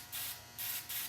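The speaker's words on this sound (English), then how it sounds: "We'll spray her up top, see how far I get" Aerosol clear coat spray can misting onto a Chevrolet Silverado truck grill: three short, hissing bursts in quick succession, close by, with brief pauses between them.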